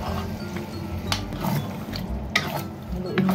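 Celery, chicken and cashew nuts tossed in a pan with sauce, a steady low sizzle and scraping stir with repeated spatula clacks against the pan, close and moderately loud.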